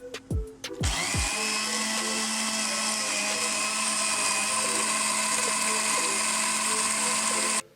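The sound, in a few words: blender blending coriander, mint and green chillies with water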